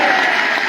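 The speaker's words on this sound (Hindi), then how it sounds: "तो एक बार मंदरूप के लिए ताली बजा दी।" A brief, dense wash of audience applause at a political workers' gathering, clapping for Mandroop, steady and fairly loud throughout.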